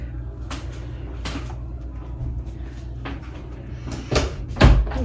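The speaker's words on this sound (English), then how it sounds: "Close the door" Several door-like knocks and bumps sound in a room, a few scattered thuds ending in a louder close near the end, over a low background hum.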